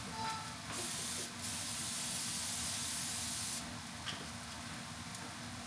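Cooking spray is squirted onto food in an oven in two hissing bursts, a long continuous spray of about three seconds followed by a short puff, over a faint steady hum.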